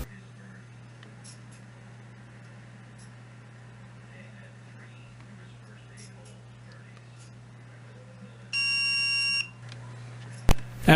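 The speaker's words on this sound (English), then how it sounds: "I set the meter to the continuity setting and touch the probes together to make sure the meter beeps." A digital multimeter on its continuity setting gives a steady, clear electronic beep of about a second as its probes touch, over a quiet background with a faint hum, followed by a brief tick.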